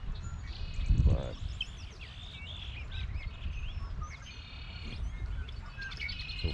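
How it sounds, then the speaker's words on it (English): Blackbirds chirp and call all around at close to middle distance, overlapping whistled tweets and trills over a steady outdoor hum, with a brief low rumble near the start. "so for the last half hour, I was surrounded by blackbirds"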